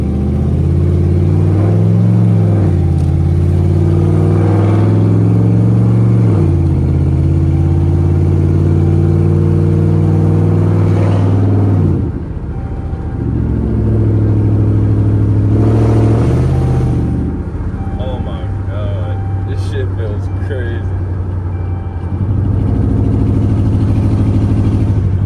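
Rebuilt Dodge Charger R/T engine with the hood removed, heard loud and close as a deep rumbling idle that swells through several strong revs and drops back, continuous throughout.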